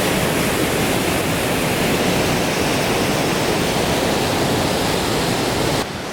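Rushing water pours heavily through a gorge in Slovenia, a loud, dense and steady roar that continues without a break before dropping slightly at the very end.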